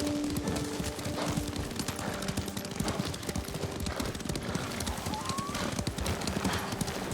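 Several horses' hooves clip-clop in a quick, steady rhythm in the video game Ghost of Tsushima, fairly faint and mixed with an occasional whinny and some voices.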